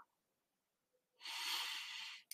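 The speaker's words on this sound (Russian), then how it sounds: "Закрываем глаза, делаем глубокий вдох" A deep, long breath drawn in during a guided relaxation exercise, a steady airy rush lasting about a second, heard close and alone after a quiet pause.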